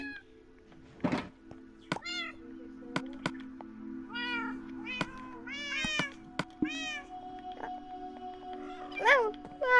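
A human voice imitates a cat meowing in a Minecraft pet-store game, giving a string of rising and falling meows over a low steady hum, broken by sharp thunks and clicks.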